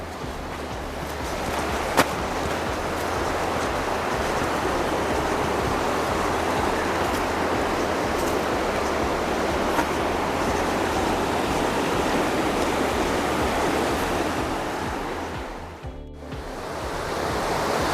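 Steady broadband rushing of Deep Creek flowing beside a trail in the Smoky Mountains, continuous and fairly loud, with no voices; a brief dip near the end.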